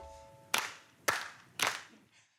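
Three sharp hand claps in an even, unhurried rhythm, each crisp and close, with brief quiet between them.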